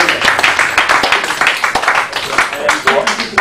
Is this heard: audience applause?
yes